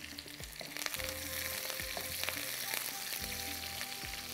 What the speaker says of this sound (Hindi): राई के साथ इसमें जाएंगे कड़ी पत्ता 4 से 6, हल्का सा इसको थोड़ा सा करते हैं ब्राउन